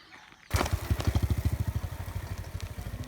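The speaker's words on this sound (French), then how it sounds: "Celui qui passait en scooter." After a brief quiet moment, a small motor scooter engine starts up close by on a rural road in Bali, with a rapid, throbbing putter that continues steadily.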